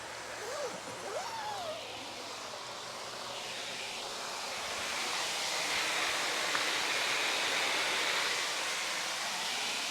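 Rainwater runs off a Space Acacia XL tent in a steady, dense wash of hiss and patter that holds constant and grows slightly fuller toward the end, with no voices heard.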